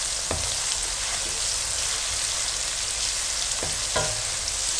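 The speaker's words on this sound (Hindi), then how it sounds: "अदरक को भी आपने चंद सेकंड्स के लिए पकाना है।" Ginger frying in a pot for peas pulao gives a steady, close sizzle throughout, with a few soft knocks of a spoon against the pot and no talking.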